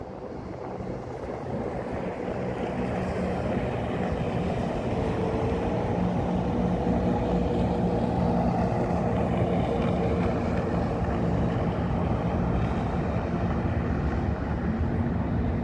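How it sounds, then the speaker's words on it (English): Jet skis run on the water near Randalls and Wards Island in New York City, making a steady, fairly distant engine drone mixed with wind rumble that holds throughout, with no one talking. "And a couple of jet skis."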